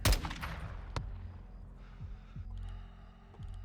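Gunfire in the video game Call of Duty MW II: a sharp shot opens the clip and another cracks out about a second later, with dull thuds and a low rumbling game soundscape continuing beneath.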